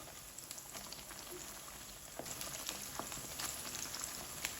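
Semolina and potato breakfast pieces frying in hot oil over a high flame, a steady soft crackle and sizzle with scattered pops, fairly quiet and continuous with no talk.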